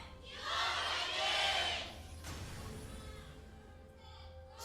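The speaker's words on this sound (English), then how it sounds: "Fans cheering on their teams." Crowd of fans cheering and shouting at a League of Legends esports match between SK Telecom T1 and KOO Tigers, a broad roar swelling for about a second then easing into a lower, steady crowd murmur.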